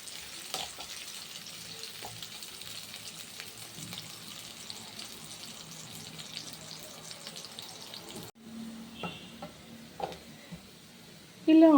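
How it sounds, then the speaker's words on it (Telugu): Chopped onions sizzle steadily in a pan for a mutton curry, a continuous close frying hiss that cuts off sharply near the end, followed by a few clinks and knocks. "మనకి ఆనియన్ అనేది బాగా గోల్డెన్ బ్రౌన్ కలర్ వచ్చేంత వరకు వేయించుకోవాలి."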